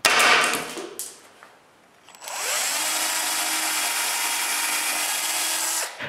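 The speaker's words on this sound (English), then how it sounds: "I drill two pilot holes," A power drill bores two pilot holes in wood in a woodworking shop, a faint scrape first, then a steady whirring drill note holding for about four seconds before cutting off.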